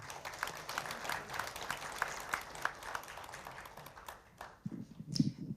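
An audience at the 22nd Seoul Doctors' Day ceremony applauds as a National Assembly member is introduced to speak, steady clapping for about four seconds before it fades and a few low sounds follow.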